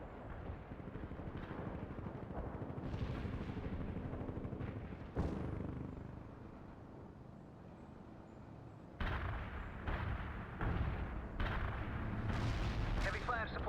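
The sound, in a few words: artillery barrage in the video game World in Conflict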